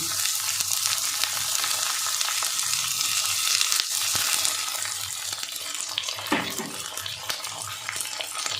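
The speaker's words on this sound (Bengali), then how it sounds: "এবার আমি যে বড় সাইজের পেঁয়াজ কুচিয়ে রেখেছিলাম পেঁয়াজ কুচিটা দিয়ে দেবো।" Chopped onion and garlic frying in a pan for egg tadka, a dense, constant sizzle with a few scraping stirs and clinks rising over the hiss.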